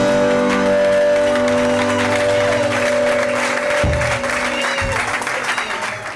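A church congregation at a mission centre opening claps and cheers, the dense applause mixed with shouting voices and a sustained musical drone, loud and full before easing off.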